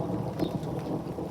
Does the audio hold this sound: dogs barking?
no